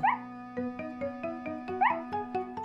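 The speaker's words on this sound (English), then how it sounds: "they heard Snuffy barking and barking" A cartoon dog in the classic animated show Miffy and Friends barks repeatedly in a quick, steady run of yips, close and clear over a soft musical tone.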